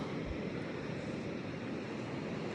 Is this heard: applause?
no